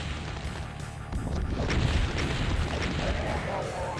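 A revenant's missile exploding in Voxel Doom 2, a fairly quiet, rumbling boom that swells midway and trails off into a lingering crackling roar.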